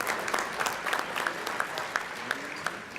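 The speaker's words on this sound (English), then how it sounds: "and we applaud you" Applause at a scholarship jazz brunch honoring historically black colleges Southern University and Grambling; a room of people claps steadily, with distinct nearby hand claps popping out rhythmically above the softer crowd, no talk over it.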